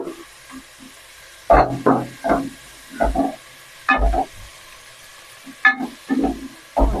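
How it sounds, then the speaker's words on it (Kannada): Coriander leaves and mint are stirred into a frying soup base, with a low sizzle beneath a series of distinct scraping, knocking spoon strokes against the pot at an uneven pace, close and fairly loud. "ಮತ್ತೆ ಕೊತ್ತಂಬರಿ ಸೊಪ್ಪು ಪುದೀನ ಮತ್ತೆ ತಿರ್ಗಿಸ್ಕೋಬೇಕು"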